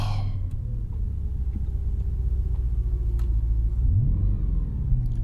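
A manual Audi RS4 B7's 4.2 V8 revs up close by, a deep, steady engine note that rises in pitch through a throttle blip near the end, with no talk.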